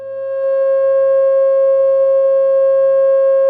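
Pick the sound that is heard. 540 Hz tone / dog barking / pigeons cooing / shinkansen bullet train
540 Hz tone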